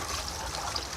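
Soft, steady trickle of water running close by onto soil, a gentle continuous dribble with no voices.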